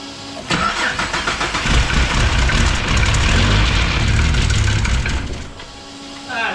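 A car engine with an exhaust leak cranks briefly, then catches and fires up into a loud, rough running roar before settling slightly.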